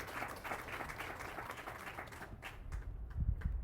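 A church congregation clapping in praise to the Lord: dense, continuous applause from many hands filling the room, moderately loud, rising slightly near the end.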